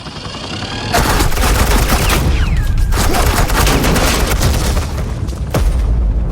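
Sustained automatic gunfire from suppressing fire in the Batman: The Enemy Within game, dense and loud rapid bursts after a quiet start, running almost nonstop with a couple of brief breaks.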